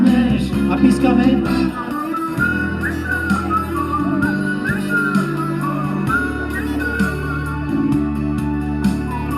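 At a live concert at Genické Trhy 2013, someone whistles a melody along with the loud band, the high whistled line riding over the music throughout.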